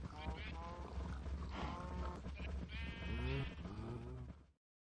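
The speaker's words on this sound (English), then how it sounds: "probably going to end up killing these sheep here" Sheep bleat repeatedly in a survival-building game world on a server, several wavering cries rising over steady ambient game sound, fairly close and clear.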